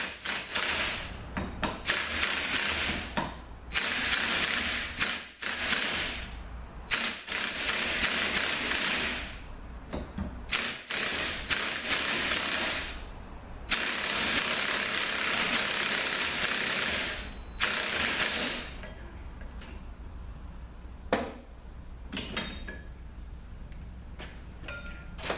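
Mechanical work with a puller during a Honda MZKA transmission teardown: bursts of loud broadband ratcheting, clanking and rattling in several long spells, separated by quieter gaps with scattered sharp taps.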